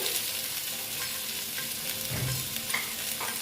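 Tomato and ginger frying with spices in a pan for a vegetarian pumpkin dish, giving a steady, close sizzle with light stirring scrapes and a brief louder spatter partway through.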